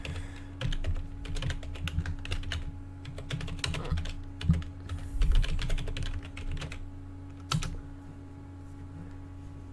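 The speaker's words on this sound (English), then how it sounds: "I will just type here the actual link" Rapid bursts of computer keyboard typing as a web link is entered, close and clear with short pauses between runs of keystrokes, no talking.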